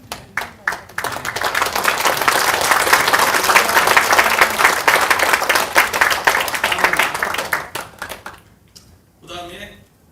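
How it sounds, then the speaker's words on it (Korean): A standing audience at a Korean documentary screening on election fraud breaks into loud, dense applause that holds for several seconds, then thins into scattered claps and fades. "잠깐 일어서서 박수 한번 같이 하겠습니다."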